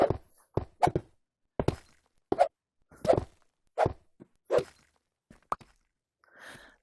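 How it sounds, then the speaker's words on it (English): Blocks break under swinging blows in the game Realm Craft, a series of about nine separate dull thunks and plops spaced irregularly apart, each short and fairly close, with silence in between. "the harder you swing, the quicker the blocks break"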